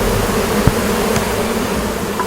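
Honeybees buzz steadily around a wild hive on a cliff face, a continuous close insect drone with no voices over it.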